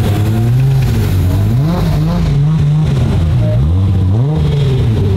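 A car revs loudly and close at the Salzburgring race track during a motor day, its engine note rising and falling in repeated sweeps over a steady roar.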